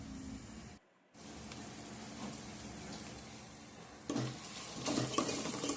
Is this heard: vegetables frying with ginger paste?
yes